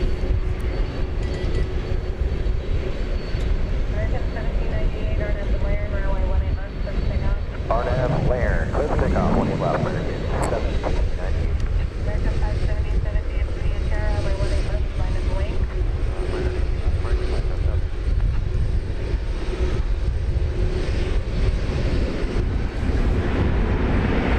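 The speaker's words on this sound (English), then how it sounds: "Flight 1798, an Airbus A321 is pointing its nose towards San Diego right now." Airbus A321 airliner at DFW Airport, its engine roar a loud steady rumble heard continuously under someone talking throughout.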